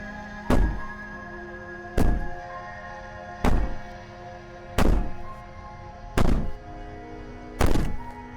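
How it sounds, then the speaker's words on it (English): In the video game Slay the Princess, the princess bangs from behind a barrier: six heavy, evenly spaced thuds, each about a second and a half apart, landing over a low, sustained musical drone. "Maybe the banging and wailing will stop if you just don't pay attention to it."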